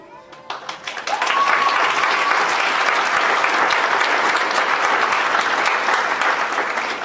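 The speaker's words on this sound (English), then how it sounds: "I'd still like to recognize them with your applause." Applause at a nursing pinning ceremony as award recipients are recognised. A few scattered claps quickly swell into loud, sustained clapping from a sizable audience that holds steady to the end.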